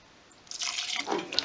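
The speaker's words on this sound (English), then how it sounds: "Just a splash of universal thinner." Universal paint thinner is splashed into a container while paint is mixed for spraying a custom front lip on a Toyota Celica. The liquid pours quickly for about a second after a quiet start.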